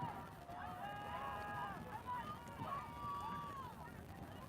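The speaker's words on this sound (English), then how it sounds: "You can hear their teammates cheering for them." Teammates at a rowing regatta finish line cheering for the crews, distant shrieks and yells carrying over wind and crowd noise, with a commentator talking throughout.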